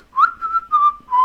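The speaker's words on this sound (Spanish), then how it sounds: "Esto sería silbar." A person whistles a short, cheerful tune of about four clear, steady notes, close and alone with no other sound.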